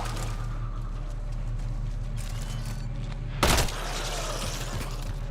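Gunfire in Mass Effect: Andromeda, heard as a single sharp burst partway through, standing out over a steady low hum and game ambience.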